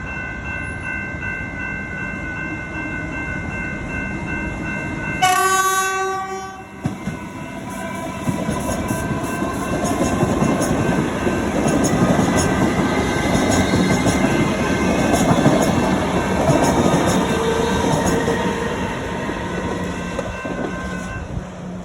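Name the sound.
Alstom Comeng refurbished train passing railway level crossing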